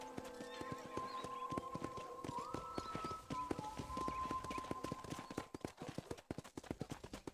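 Steady rhythmic clip-clop of horse hooves in the video game Red Dead Redemption, with a neigh partway through, the hoofbeats clear and close, growing more pronounced toward the end.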